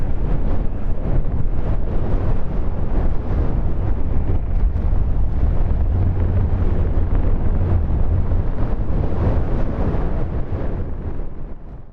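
Strong wind roars across the microphone on a Scottish mountain summit in winter on Creag Meghaidh, a constant loud buffeting rumble with no voices.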